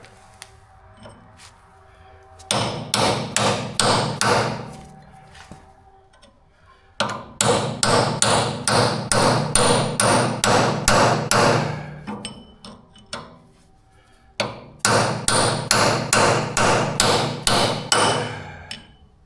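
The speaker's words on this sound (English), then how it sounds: "Might need a bigger hammer." Three bursts of loud, rapid hammer blows on the axle of a Minneapolis Moline U302 diesel tractor, each a steady run of sharp ringing metal-on-metal strikes, separated by short pauses with faint background noise.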